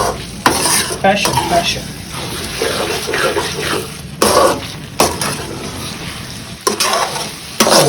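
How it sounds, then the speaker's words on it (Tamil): Mint beef masala fries in a pan while a spoon stirs and scrapes against the metal in repeated strokes over a continuous sizzle, with brief speech. "நல்லா கிண்டி கொடுத்துட்ருக்கணும்."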